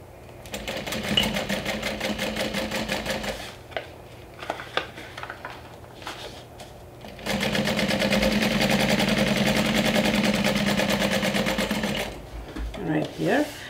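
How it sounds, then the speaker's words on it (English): A sewing machine edge stitches the lining of a Wayfarer 2.0 style bag, running in two steady bursts of rapid stitching separated by a short pause. "I'm going to edge stitch, so less than 1/8 inch away from the edge."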